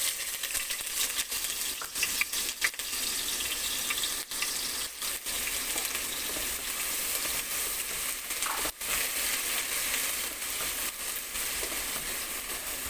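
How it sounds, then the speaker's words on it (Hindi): Ginger garlic paste frying in about four tablespoons of oil in a pan for creamy white chicken, a constant hissing sizzle with scattered clicks and spatters, close and even, no voices. "ये मैंने अपने पैन में जो है वो 4 टेबलस्पून ऑयल डाल दिया है। अब मैं सबसे पहले इसमें डालूंगी जिंजर गार्लिक पेस्ट"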